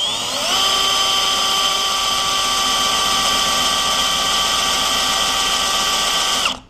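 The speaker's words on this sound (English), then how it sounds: "where we need to drill this lock out," A power drill bores steadily into an ASSA Stanley padlock, a loud, continuous high whine that spins up, holds its pitch for several seconds, then cuts off.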